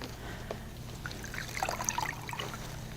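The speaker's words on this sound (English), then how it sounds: "And I'll rinse the arm." Water trickling and dribbling from a washcloth as an arm is rinsed during a bed bath, a soft continuous splashing with small irregular drips, close and fairly quiet.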